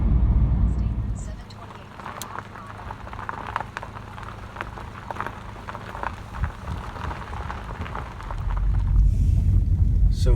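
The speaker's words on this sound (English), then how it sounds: "So here we are driving down Poorhouse Road" A car drives along a very narrow rural road, Poorhouse Road, near Lexington, Virginia, with a steady low rumble of road and engine noise, a rain-like patter and occasional clicks over about ten seconds.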